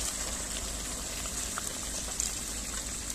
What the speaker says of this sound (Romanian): Direct a început să fiarbă. Uite, clocotește aici, vezi?